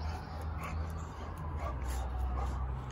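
A dog whimpers and yips softly in short, high bursts over a low hum, fairly close and not very loud.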